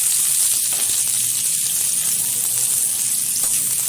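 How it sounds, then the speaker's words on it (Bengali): Cinnamon, cloves, cardamom and onion fry in hot oil, giving a loud, continuous, close sizzle with a dense hiss that never lets up. "তেলের মধ্যে দিয়ে দিচ্ছি এখানে দারচিনি, লবঙ্গ, এলাচ।"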